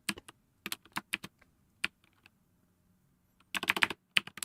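Computer keyboard typing in irregular bursts of quick, close clacks, separated by short pauses and ending with a denser flurry of keystrokes, with no voices.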